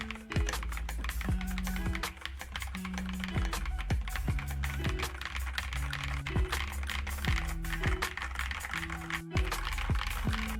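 Rapid, continuous typing on a budget mechanical keyboard fitted with Akko V3 Cream Yellow Pro switches, close and crisp, with dense clacking keystrokes and occasional deeper thocks from larger keys, no talking.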